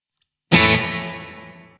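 A single strummed guitar chord through a Line 6 DL4 MkII with reverb set for long decay rings out loud and bright, then fades slowly over more than a second.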